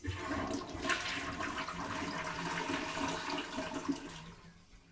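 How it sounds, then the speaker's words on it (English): A toilet flushes loudly and steadily for several seconds, water rushing and gurgling close by before tapering off at the end. "Flush and hold."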